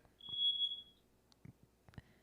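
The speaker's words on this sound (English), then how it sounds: "that your fire alarm? Should we get out?" A fire alarm gives one thin high electronic tone lasting under a second, fairly faint, followed by brief soft knocks and a short second chirp near the end.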